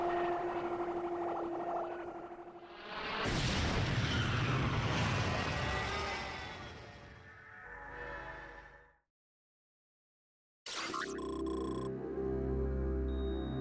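Cannon of Doom weapon from Metroid Prime Hunters, a loud sweeping charge and blast with a rumbling tail that drops to silence, then a sharp burst of game sound resumes.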